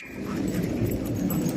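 Several dogs scuffle and whimper together up close, a continuous low, busy jumble of grumbles, yelps and shuffling that runs steadily from start to finish with no talk.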